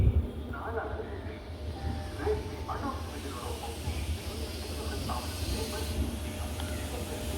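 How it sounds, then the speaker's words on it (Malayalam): An Erode-shed WP7 locomotive shunting the Himsagar Express, heard as a low hissing rumble of the rail movement with faint clanks, steady and moderately distant throughout. "നമ്മുടെ ഈറോഡ് ഷെഡിൻ്റെ ഒരു WP7 ആണ് കേട്ടോ നമ്മുടെ ട്രെയിനിനെ ഷണ്ട് ചെയ്ത് വന്നുകൊണ്ടിരിക്കുന്നത്."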